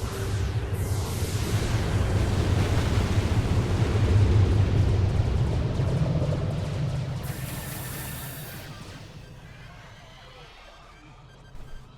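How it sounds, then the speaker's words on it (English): Rockets explode in the strategy game Darwinia: a sustained, roaring wash of blasts swells over several seconds, then slowly fades out, with a small pop near the end. "Get them with the rockets."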